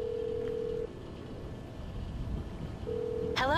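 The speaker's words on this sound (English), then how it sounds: "Let us make a phone call." A phone call is placed in GTA 5 Online: steady dial-tone beeps start and stop, a quiet gap follows, then another tone and a warbling ringing trill near the end, with no talking.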